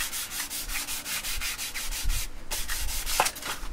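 Fine-grit sandpaper, around 800 grit, scuffing the sprayed finish of a left-handed Tele-style electric guitar kit body in quick, rhythmic back-and-forth rubbing strokes, close and fairly quiet, with a short pause midway.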